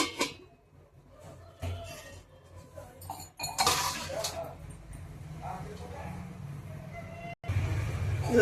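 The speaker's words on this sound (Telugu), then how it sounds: "మూత పెట్టుకుందామండి." A lid set on a cooking pot of chicken biryani with coconut milk: a few close metallic clinks and clatters, then a steady, even wash of sound from the simmering pot.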